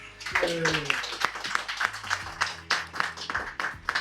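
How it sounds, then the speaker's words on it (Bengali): A small group clapping and applauding for the sisters at the close of a monsoon ride trip, with uneven, moderately close claps and a voice heard briefly at the start. "এবং আজকে দিদিদের জন্য, প্রত্যেক দিদিদের জন্য একটা জোরে হাততালি"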